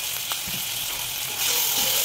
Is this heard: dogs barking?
no